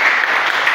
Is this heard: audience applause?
yes